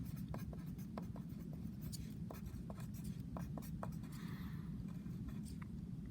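Chalk or marker tapping and scratching on a board during a math lecture on exponential functions, a quick run of short strokes over a steady low hum, no talking.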